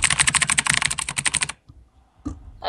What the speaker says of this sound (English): I bought this loud keyboard. Trust me, mine's louder.